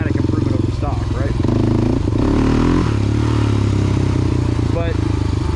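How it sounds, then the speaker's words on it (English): Motorcycle fitted with an HMF aftermarket exhaust, airbox lid on, running loud and close with a deep engine rumble and rising revs, while a voice talks over it. "the HMF seems a little bit snappier down low"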